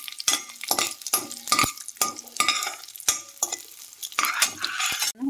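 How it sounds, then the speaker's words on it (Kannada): Cashews and raisins fry in hot ghee in a pan, with a steady sizzle under repeated clinks and scrapes of a spoon stirring against the metal, close up and with no talking. "ತುಪ್ಪ ಕಾದ್ಮೇಲೆ ಅದಕ್ಕೆ ಗೋಡಂಬಿ ಹಾಕಿ ರೋಸ್ಟ್ ಮಾಡ್ಕೊ. ಇದ್ರ ಜೊತೆಗೆ ಒಣ ದ್ರಾಕ್ಷಿ ಹಾಕಿ ಇದು ಸಹ ಫ್ರೈ ಮಾಡ್ಕೋಬೇಕು."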